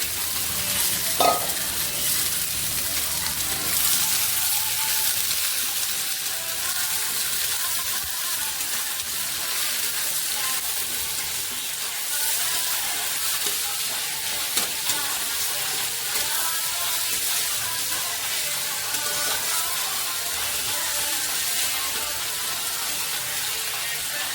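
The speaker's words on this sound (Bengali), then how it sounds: "এখন আমি তেলের উপর পেঁয়াজটা ছেড়ে দিলাম" Onion frying in hot oil for a sour fish curry: a steady, close sizzle runs throughout, with occasional stirring scrapes and no talking.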